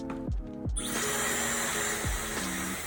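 A few quick mechanical clicks, then a hairdryer used as a heat source for making wax paper whirs on, blowing with a steady airy roar and high-pitched whine.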